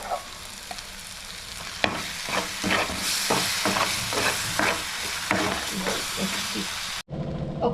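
Spice paste frying and being stirred in a pan for a phool makhana curry, a steady loud sizzle broken by repeated scraping strokes of the spoon, cutting out briefly near the end before resuming.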